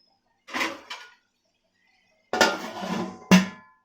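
Metal lid set onto a cooking pot while tomatoes soften in oil: a soft clatter, a small tap, then a louder scraping clank and a final sharp clink, close and alone in a quiet kitchen.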